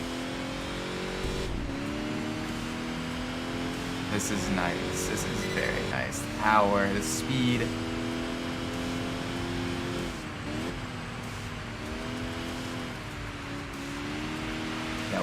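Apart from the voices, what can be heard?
car engine and turbo in Enthusia Professional Racing video game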